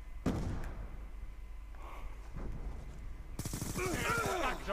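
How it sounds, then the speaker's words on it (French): Pistol shots in a video game ring out as a few sharp, close bursts amid game sounds, followed near the end by a person talking. "Je sors le pistolet, l'arme de la seconde chance."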